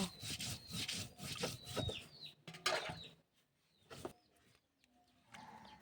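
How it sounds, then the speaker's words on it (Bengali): Ginger and garlic are ground into a paste on a grinding stone, a close, rhythmic scraping and rubbing in strokes with short pauses, and birds call faintly in the background. "আদা রসুনগুলো বেটে নেব। থেতো করে নিচ্ছি, এবার আমি বেটে নেব।"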